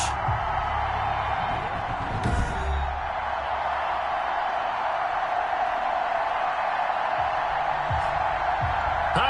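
A sold-out stadium crowd roars in the Madden 21 football game as the Cincinnati Bengals take the field, a broad steady cheer filling the background with a few low thuds mixed in.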